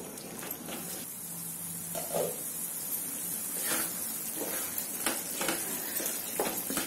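Chana palak curry of chickpeas and spinach simmers in a pan with a steady soft sizzle and bubbling hiss, broken by occasional faint scrapes of stirring.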